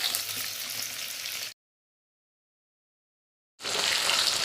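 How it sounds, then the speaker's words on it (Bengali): Chicken pieces shallow-fry in oil in a pan, a dense close sizzle that cuts off into two seconds of total silence before the hiss resumes. "আমি ডিপ ফ্রাই করিনি, আমি শ্যালো ফ্রাই করেছি।"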